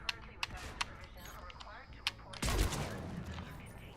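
Gunfire from a space shooter video game rings out in sharp, separate shots, several quick cracks followed by a louder burst near the end, set against a quiet background.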